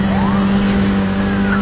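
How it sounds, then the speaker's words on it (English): Steady droning car exhaust note from Need for Speed Heat, a continuous engine hum holding one pitch with a faint rising whine, loud and close with no talk. "and it's the sound of the exhaust"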